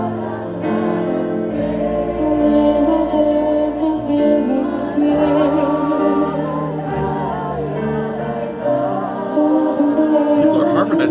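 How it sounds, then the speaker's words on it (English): A concert crowd at a live show in Budapest sings along in harmony, a loud sustained chorus of many voices with musical backing, continuous throughout. "People are harmonizing in the crowd."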